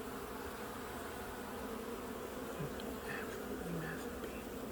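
Honey bees buzz steadily during an outdoor hive inspection, a dense, continuous drone with no gaps and no voices.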